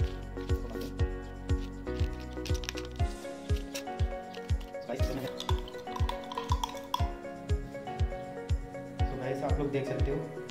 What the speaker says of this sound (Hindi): हमने इसमें पान मसाला को इस माजा में मिक्स कर दिया।